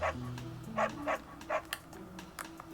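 Several short dog barks in Fire Emblem Three Houses, spaced irregularly over a steady background music bed, fairly close and moderately loud.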